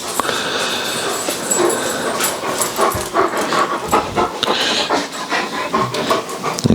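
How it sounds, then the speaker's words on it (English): Several dogs pant heavily and scuffle indoors while chasing and playing, with busy, continuous panting, quick footfalls and occasional whimpers close by. "got a couple of dogs in here that are chasing each other,"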